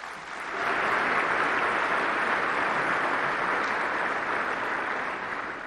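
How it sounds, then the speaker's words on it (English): Sustained audience applause for airmen at an Air Force Association gathering, a dense wash of many hands clapping that swells in, holds steady for several seconds and eases off near the end, with no talk over it. "if you're an airman, give yourself a round of applause"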